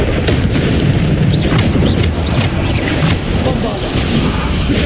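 In Hogwarts Legacy, a Bombarda spell blasts with a loud, sustained booming crash, layered with rumbling debris and clattering combat effects that stay dense for the whole stretch.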